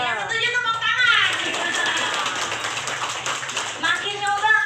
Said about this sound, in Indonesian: yang setuju tepuk tangan